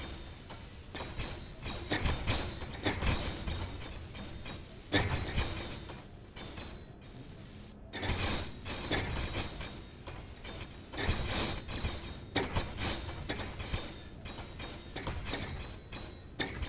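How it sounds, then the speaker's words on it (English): Welders build in the game Space Engineers with a continuous dense mechanical grinding and ratcheting, pulsing in waves with a brief dip partway through. "I do love it when the welders are building."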